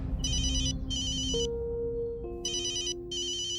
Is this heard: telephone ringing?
yes